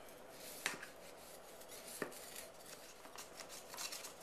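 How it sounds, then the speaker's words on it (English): A knife runs around the middle tube and outer edge of an angel food cake pan, giving faint scraping and a couple of sharp metallic taps in a quiet kitchen. "take my knife and we're going to run it around the middle and the outside"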